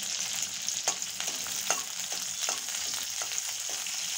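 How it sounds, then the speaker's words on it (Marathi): Ginger, garlic pieces and slit green chillies fry in hot oil in a pan, giving a steady close sizzle with occasional stirring clicks and scrapes, and no talking. "अद्रक आणि लसूणचे तुकडे त्याच्यात टाका. 3-4 मिरच्या ज्या मी उभ्या कापून घेतलेल्या होत्या त्याही या तेलात पाठवा."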